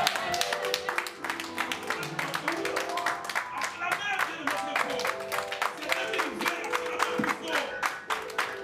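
Church congregation clapping and cheering together in a lively service, a dense, steady wash of applause mixed with voices and music-like tones throughout.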